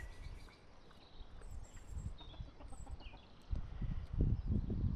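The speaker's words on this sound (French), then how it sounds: "Miss Coin-Coin qui couvre là." Soft, low guttural calls from a nearby brooding duck sitting on eggs, a few quiet grunting bursts rising toward the end, with faint higher chirps in the background.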